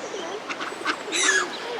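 Soft cooing and chirping of birds nearby, brief calls over a faint outdoor background.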